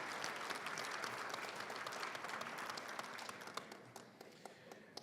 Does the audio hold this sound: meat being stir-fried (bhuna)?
no